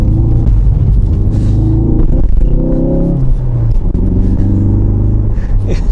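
Ferrari accelerating and drifting in third gear on a wet road, a loud continuous engine roar with rising and falling revs throughout, heard close up with no talking.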